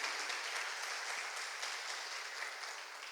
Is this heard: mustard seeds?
no